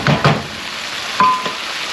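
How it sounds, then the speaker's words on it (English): Red onions stew in a hot pan for Korean red pork steak with a soft, steady sizzle, broken by a few close taps and scrapes of a utensil against the pan. "So we stew the onions in."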